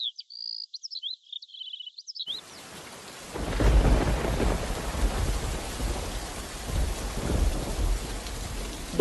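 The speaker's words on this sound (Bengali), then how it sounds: "বাইরে অনেক বৃষ্টি হচ্ছে।" Heavy rain pours outside with deep rumbles of thunder, rising into a loud, steady wash after a few seconds of quiet. Faint chirping bird calls come just before.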